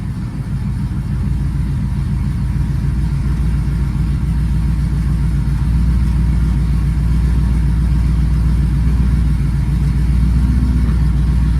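An old car engine idling just after starting, a loud steady low rumble with an even throbbing pulse that holds constant throughout, heard close and without voices.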